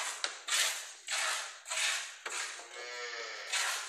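A pregnant dairy cow on a farm lows close by in a run of several loud, drawn-out calls separated by short pauses.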